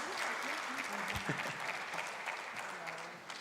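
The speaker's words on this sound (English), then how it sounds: "Oh, please keep clapping for Akosua" A conference crowd at a fintech summit in Accra keeps clapping for the fireside-chat moderator, dense sustained applause with a few voices and cheers mixed in underneath.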